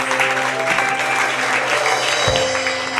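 A church congregation at a Dominican evangelical service breaks into loud, sustained applause that fills the whole stretch, with a steady tonal hum of instruments or amplification beneath it.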